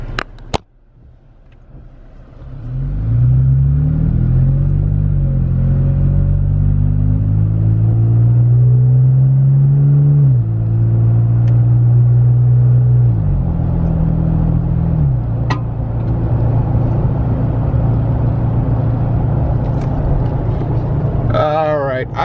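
A 2016-2019 Toyota Tacoma pickup pulls away and cruises on the road, its engine a steady, loud, low rumble heard from inside the cab, with gear shifts marked by pitch rises and drops.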